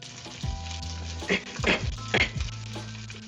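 A breakfast burger being cut with a silicone utensil in a sizzling frying pan, with steady frying hiss throughout and several scraping, pressing strokes against the pan at close range.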